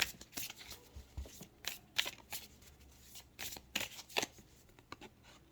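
Tarot cards shuffled for a reading make close, soft riffling bursts and papery slaps in an irregular rhythm, quiet and alone with no talking.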